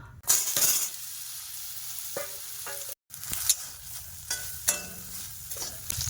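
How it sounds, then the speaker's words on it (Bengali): Steady hiss of soybean chunks frying in hot oil in a kadai, with occasional spoon scrapes and clinks against the pan, close up, with a short break midway. "কড়াই তেল দিয়ে দিয়েছি সয়াবিনগুলো ভাজবো"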